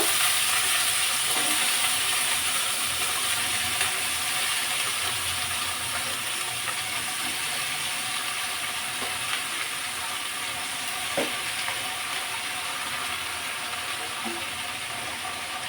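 Shredded cabbage fries in a hot pan, giving a steady, even sizzle and crackle with faint stirring, continuous and close with no voices.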